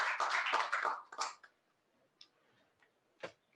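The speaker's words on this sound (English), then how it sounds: "Let's just give her a round of applause." A conference audience gives a short round of applause after a pension-fund and capital-markets panel. A dense burst of clapping fades within about a second, followed by a few scattered, isolated claps in a quiet room.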